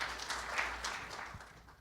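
Audience applause at a Korean health-care forum opening ceremony, a steady wash of clapping from a seated crowd welcoming the next speaker, moderately faint and fading slightly toward the end.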